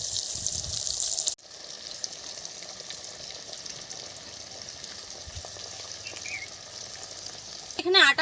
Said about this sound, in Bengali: এখন ম্যারিনেট করা চিকেনগুলো দিয়ে দেবো।